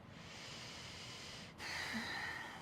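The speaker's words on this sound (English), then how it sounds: "Allow that breath to scrape the back of the throat, even on your inhale." During a power yoga session, a quiet, airy ujjayi breath passes through the nose: a soft inhale, then a louder, rougher exhale, close and alone.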